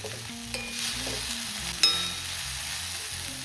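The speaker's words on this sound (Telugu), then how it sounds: "కొద్దిగా ఫ్రై అవుద్దాము, అల్లం వెల్లుల్లి పేస్ట్ పచ్చివాసన పోయే వరకు" Ginger garlic paste sizzles and fries in a pan with cooked black-eyed peas, a steady close crackle with a couple of sharp utensil clinks as it is stirred.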